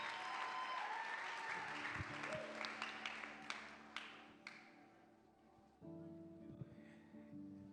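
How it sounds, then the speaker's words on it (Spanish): A church congregation applauds warmly in a Puerto Rican service, a dense, steady wash of many hands clapping that fades gradually, with a sustained organ-like chord droning underneath. "Con un caluroso aplauso de agradecimiento."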